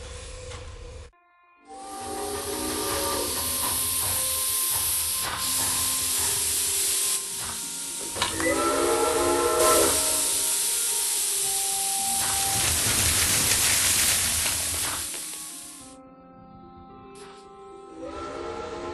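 A steam train hisses with a long, loud, broad spray of steam that rises and holds for many seconds, with whistle tones rising through it before the sound thins out and fades near the end.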